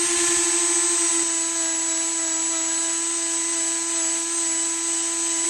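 A power tool spins an abrasive disc to polish a rifle part, giving a steady high-pitched whine that stays constant and close with almost no break.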